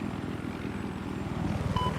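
An enemy Little Bird helicopter in a video game thrums with a steady rhythmic rotor beat that grows slightly louder, with a short tonal beep near the end.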